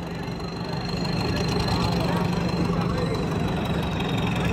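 A Farmtrac 655 tractor engine runs at a steady, close, throbbing rumble with a knocking diesel character, while someone talks over it.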